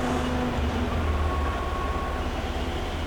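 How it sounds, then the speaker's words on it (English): A Proto-Trak two-axis CNC vertical mill with glass scale feedback jogs its x-axis, the motors and ball screws giving a steady, continuous mechanical whir with low rumbling tones, close and unbroken throughout. "He's just jogging the x-axis. The motors and the ball screws sound good."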